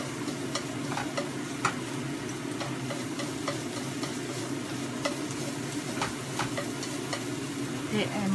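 Rice mixed with ketchup for omurice stir-fries in a pan, a dense continuous sizzle with frequent light ticks and scrapes of the utensil, close and steady throughout.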